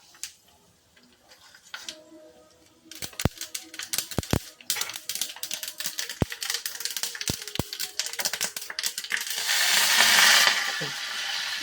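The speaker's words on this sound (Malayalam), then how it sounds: "കടുക് ഇട്ടു." Mustard seeds pop and splutter in hot oil for a Valluvanadan-style kalan, beginning as sparse sharp crackles and building into a dense, louder sizzle toward the end, heard up close.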